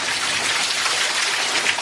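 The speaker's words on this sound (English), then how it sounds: "Rain has gotten substantially harder now." Heavy rainfall during an Easter storm in Columbus, Mississippi, a dense, steady hiss of downpour with no let-up, loud and close, with no voices.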